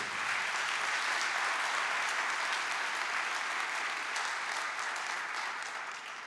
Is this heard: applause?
yes